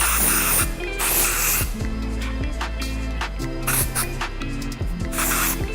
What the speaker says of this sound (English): giving it a healthy spray